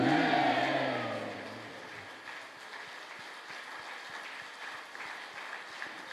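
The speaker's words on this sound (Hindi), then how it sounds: "सभी लोग अपने दोनों हाथों को ऊपर करेंगे और जब तक मैं दूसरी जय ना बोलूं तब तक आप तालियां बजाते रहेंगे" Crowd applause at a Jain religious gathering, hands raised, broad steady clapping that starts loud under a fading chant and continues as a sustained wash of many hands.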